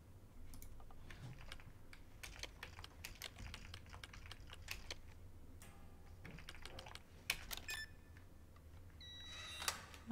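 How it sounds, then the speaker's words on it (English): Computer keyboard typing in Resident Evil 2 Remake: quick, irregular clacking keystrokes, fairly close, running throughout over a low hum, with a few brighter beeps near the end. "Keyboard."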